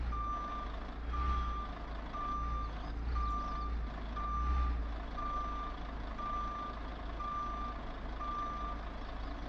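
Reversing beeper on a truck in a truck driving simulator, a steady run of evenly spaced single tones over a low idling engine rumble, moderately close.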